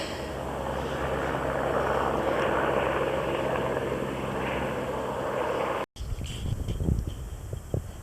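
A helicopter drones steadily with a broad roar and rotor rumble, then after a brief cut the sound continues fainter with some nearby clatter.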